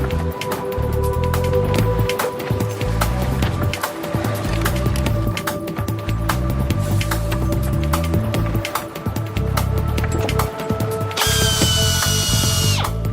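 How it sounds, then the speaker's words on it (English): A power drill bores holes for mounting brackets on a bridge, run by divers underwater, giving a loud continuous grinding whir with ratcheting pulses and a shift to a higher-pitched spin near the end. "All this just to drill holes for mounting brackets."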